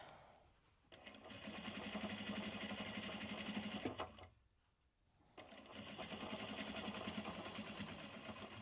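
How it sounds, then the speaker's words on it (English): A sewing machine stitches two layers of fabric together for a tote bag. It runs in two steady bursts of rapid mechanical whirring with a short pause between them, close and fairly quiet. "literally they're actually probably should be to smash together point, which means like just sewing the 2 layers together"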